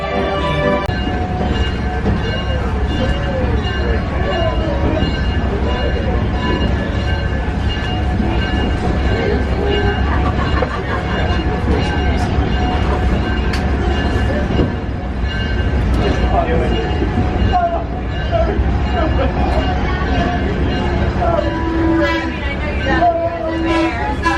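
Steady rumble of an amusement park train with wheel and carriage noise throughout, under a constant background of crowd chatter.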